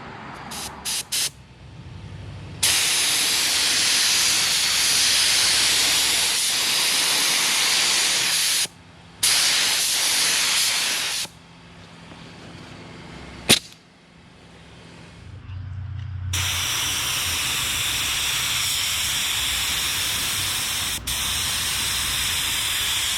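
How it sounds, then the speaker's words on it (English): Spray gun laying down black base coat on a 1972 Chevelle, a steady loud hiss in long bursts broken by short pauses and trigger releases, with faint background noise between passes. "I'm going to get this turned around, get all hooked up, and start spraying"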